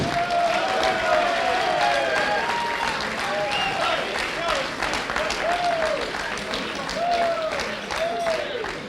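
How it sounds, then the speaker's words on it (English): A room of guests at a Kerins O'Rahillys GAA club awards night applauds and cheers for John O'Connor, a steady, close burst of clapping and whoops with a few voices calling out over it. "Everybody can bring a round of applause for John O"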